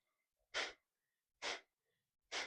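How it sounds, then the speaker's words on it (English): Breath of fire yoga breathing: three sharp, forceful nasal exhales spaced about a second apart, close and clear, with near silence between them. "We're going to do breath of fire. It's a projected breath out and a natural inhale."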